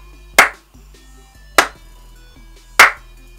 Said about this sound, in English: I'm gonna clap for you one more time for making it to the end of the year.